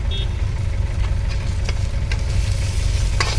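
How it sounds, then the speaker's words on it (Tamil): Beetroot for poriyal is stirred and sautéed in a pan, a low steady sizzle under a rumbling background hum, with a few sharp spoon scrapes against the pan. "நல்லா கிண்டி விட்டுட்டு ஒரு 10 நிமிஷம் நியமாக நல்லா வதங்கணுங்க பீட்ரூட்"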